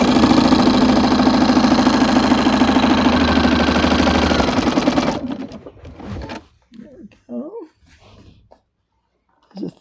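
Sewing machine with a walking foot runs steadily while quilting fabric, a loud continuous whir that stops about halfway through, followed by quiet handling noises and brief sounds.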